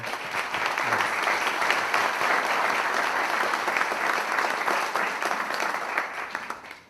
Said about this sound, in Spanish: pido que lo recibamos con un fuerte aplauso